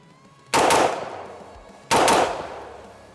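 A POF P415 Edge AR-15 rifle fires two sharp, loud shots about a second and a half apart, each cracking hard and then trailing into a decaying outdoor echo.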